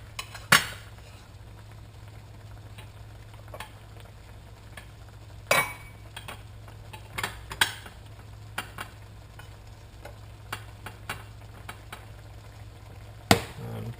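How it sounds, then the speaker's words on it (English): Rice being spooned into a bowl in a kitchen while Thai chicken cashew nut stir fry is made, giving sparse clinks and scrapes of utensil on dish over a steady low background hum, with no talking. "So for the rice, I'm just going to put it into a bowl here."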